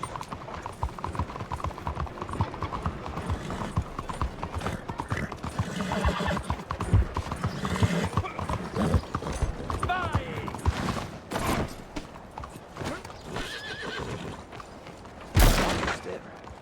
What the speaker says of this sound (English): Nice horse.